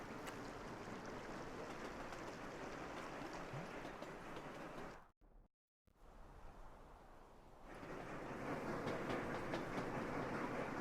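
Trains in the Sweet Transit game rumble in a steady, broad wash of rolling noise that briefly drops out to near silence mid-way, then returns louder.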